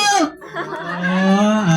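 Children imitate a cow's long, drawn-out moo, close and loud, rising then holding a steady low tone.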